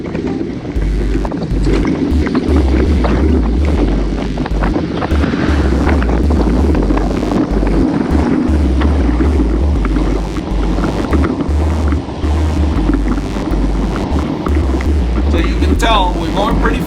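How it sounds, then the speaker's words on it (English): Heavy wind buffets the microphone while cycling hard into a headwind on a rainy group ride, a constant loud rumbling roar with gusty low thumps, and a rider talks over it throughout. "It's windy, going into the wind."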